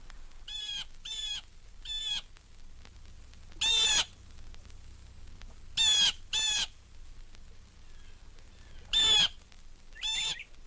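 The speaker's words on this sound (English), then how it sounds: "The jay makes sure it's heard, though." A blue jay calls repeatedly outdoors at Bok Tower Gardens, loud harsh raspy jeers in short paired bursts, alternating with softer, more distant calls.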